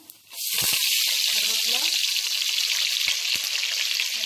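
Cumin, black pepper and fenugreek seeds hit hot sesame oil and burst into a loud, steady sizzle that carries on evenly, with a few soft clinks of utensils in the pan.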